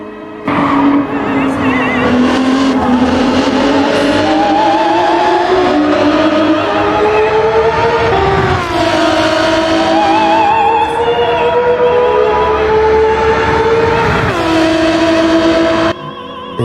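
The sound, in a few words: Alfa Romeo 155 V6 Ti 2.5 V6 engine, racing video game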